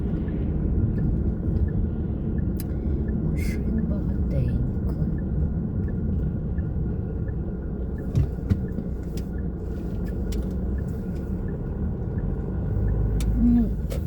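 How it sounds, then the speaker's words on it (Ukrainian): Heavy road traffic forms a steady, low rumble of engines and tires that continues throughout, with a few faint clicks and taps on top. "Машин ну, багато сьогодні."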